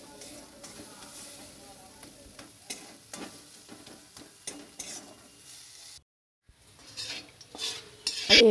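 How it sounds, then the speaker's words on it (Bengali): Sesame paste being stirred in a pan on a home kitchen stove, giving soft repeated scraping and light sizzling with scattered utensil clicks, pausing for a brief silence near the end. "সাদা তিল বাটাটা নিয়ে আমি আবার কিছুক্ষণ নেড়ে নেব।"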